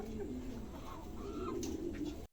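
A king pigeon coos close by, a soft rolling low call with a couple of rising, warbled notes over a quiet background, cut off abruptly at the end.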